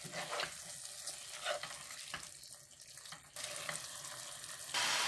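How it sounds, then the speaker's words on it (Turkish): Boiled meat stirred into tomato in a cooking pot for a bean stew gives wet scraping and sloshing with a steady sizzle underneath, close and moderately loud, with a few distinct knocks of the spoon. "Eti de ilave ettikten sonra şöyle bir karıştıralım."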